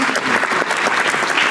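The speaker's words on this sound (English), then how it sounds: "Round of applause, ladies and gentlemen." A conference audience at a media industry roundtable bursts into brief, loud, dense applause, many hands clapping close together in a short sustained wash.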